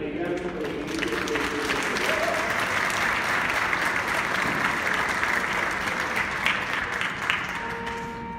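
Audience applauding warmly at a trumpet and pipe organ concert in a church, a steady, dense wash of clapping lasting throughout, with a voice speaking over it.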